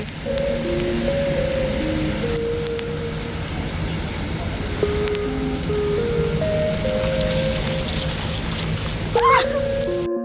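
Steady rain patters down on a rainy day, forming a constant hiss beneath faint tonal sounds and occasional muffled background noise.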